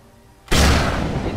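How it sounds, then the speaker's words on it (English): A guided missile explosion in the Fortnite video game hits as a sudden loud boom after a quiet moment, then rumbles and decays over the following second, with no talk. "So I'm gonna get him with this guided missile."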